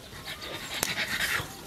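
A dog pants in quick, breathy bursts close by, short and steady with a brief sharp noise in the middle.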